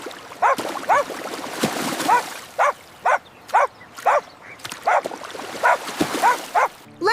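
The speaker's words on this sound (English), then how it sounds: "The dog is barking loudly near the small duck pond." A dog near a small duck pond barks loudly in a quick irregular series of about a dozen sharp, close yips and barks, with quieter outdoor background between them.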